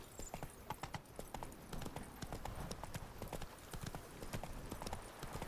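Horse hooves from The Witcher 3 game clop in a rapid, steady galloping rhythm throughout, loud and close, with faint game ambience beneath.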